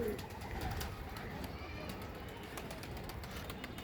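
Breeding pigeons coo softly in a loft, low murmuring calls repeating in the background at a faint, even level, with a voice nearby.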